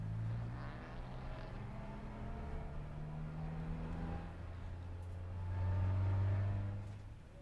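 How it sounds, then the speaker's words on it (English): TCR touring race cars idle on the starting grid at San Juan Villicum, a steady low engine drone with overlapping tones, swelling louder near the end as one engine revs up. "Here are the cars lining up on the grid"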